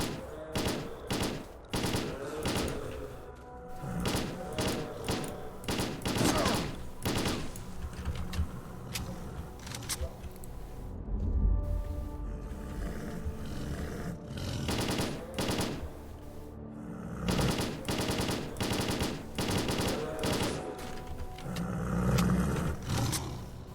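Dense bursts of gunfire from the video game STALKER Call of Pripyat, rapid automatic volleys and single shots that come in clusters with brief lulls between, loud and close throughout.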